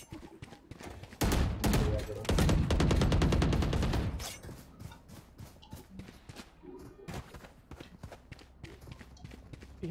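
Rapid gunfire spray from the tactical shooter game Valorant comes in two dense bursts of fast, close shots, followed by scattered thumps, footsteps and softer shots.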